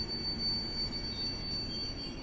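A long train of Polish carriages rolls into Warszawa Zachodnia station after dark, with a continuous rumble of wheels and a thin, high, sustained wheel squeal over it.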